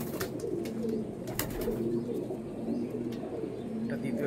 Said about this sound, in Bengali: এটা নর পায়রা আছে, এটা মাদা পায়রা আছে